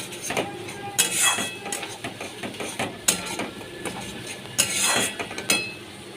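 Ginger, garlic, green chili and tomato paste sautéed in a pan, heard as irregular metallic clinks and scrapes of a spoon against the pan over a soft background sizzle, close and moderately loud, without talk.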